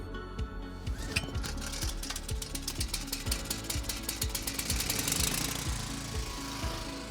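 A petrol generator cranked by its manual recoil starter cord catches and runs, giving a rapid, loud, rattling engine chug with even pulses that rises toward the end. The sound is close and continuous, with no voices.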